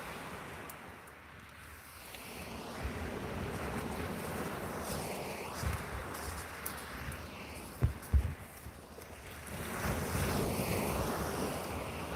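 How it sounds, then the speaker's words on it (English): Big waves crash and roll onto a beach shore at night, a steady broad wash of surf with wind buffeting the microphone and a couple of sharp knocks near the end. "Big waves crashing into the shore."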